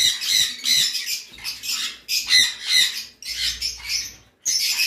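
Conure parrots for sale at a bird market, squawking in harsh, repeated bursts close by, several loud calls in quick succession with short gaps between them.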